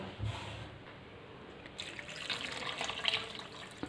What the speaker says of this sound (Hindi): और अब इसमें शामिल करते हैं जी पानी